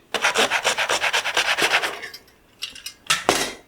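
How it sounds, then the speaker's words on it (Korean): Brisk rhythmic sanding of carved wooden puppet arms, a steady series of rasping back-and-forth strokes close up, then a pause followed by a few scattered harder rubs. "자, 샌딩 갑니다"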